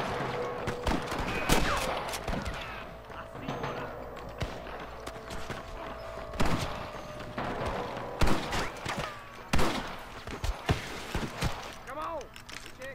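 Scattered gunshots in the Western game Red Dead Redemption, sharp cracks at irregular intervals, some loud and near, others fainter, with someone speaking between and over the shots.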